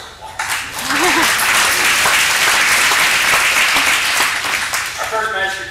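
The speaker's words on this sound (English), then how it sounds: "that deserves applause" Applause at a political party dinner, a loud, sustained wash of many people clapping that swells quickly and holds steady, with a voice heard briefly before it starts and again as it fades.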